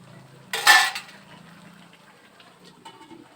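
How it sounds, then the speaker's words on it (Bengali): A lid goes onto a pot of spiced chicken with one bright metallic clank, a short ringing clatter that stands out sharply before quiet faint kitchen noise returns. "মাংসটা মশলার সাথে মাখানো হয়ে গিয়েছে, এবারে ঢাকা দিয়ে দেব।"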